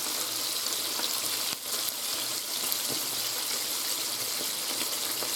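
Mini hamburger sliders searing in a hot pan, a loud, continuous hiss of sizzling fat that stays steady throughout, close up with no talking.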